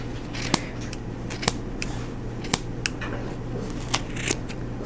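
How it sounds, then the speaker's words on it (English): Sharp scissors snip through the yarn loops of a pom pom in a string of crisp, separate close cuts, roughly one per second, over a quiet steady background. "you're trying to stick the scissors, and they've got to be pretty sharp scissors, inside the loops, and you're going to be cutting the loops"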